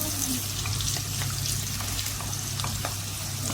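Squid fries with garlic and tomato paste in a pan, a constant close sizzling hiss over a low steady hum, with faint clinks now and then.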